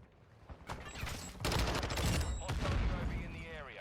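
Hip-fired automatic weapon bursts in Call of Duty MW2 crackle loudly in two sustained volleys after a few single shots, with game effects and a voice in the background.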